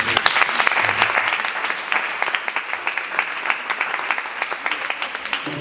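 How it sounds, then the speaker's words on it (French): Sustained applause from an association's assembly, dense and steady throughout with a few sharper individual claps standing out, no speech over it. "Acclamez-vous vous-même."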